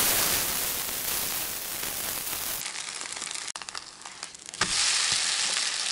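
Steady sizzling and crackling of batter frying in a hot oiled pan, close and continuous, with a brief clatter partway through.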